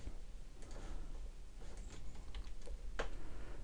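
Quiet, irregular key clicks tap on a computer keyboard over a low background hum, soft and fairly close, with no voice present.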